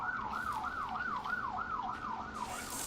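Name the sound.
ambulance siren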